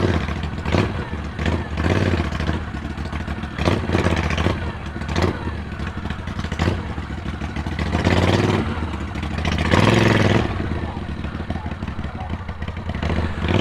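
Moto Guzzi motorcycle engine pulling away at a biker cafe, uneven revving pulses and clattering rising and falling close by, with a voice talking over it.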